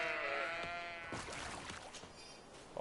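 Sheep in the video game GreedFall let out a wavering bleat, followed by fainter rustling and movement sounds at a low level.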